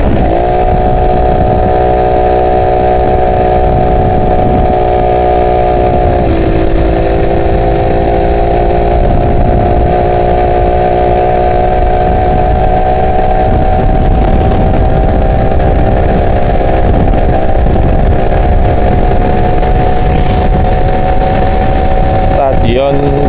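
An old Yamaha Alfa 2R motorcycle engine labors steadily in second gear climbing a mountain road, loud and close with a continuous buzzing drone and a slight pitch shift partway, no talking over it.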